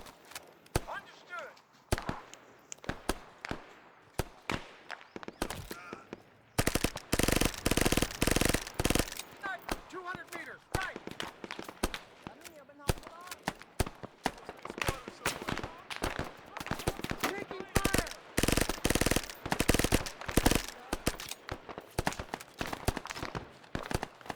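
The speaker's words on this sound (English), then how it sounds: "we're hearing shots from our left" Rapid gunfire in the Vietnam War game SOG rattles off in dense bursts of sharp cracks, some near and loud, others more distant, continuing almost without pause.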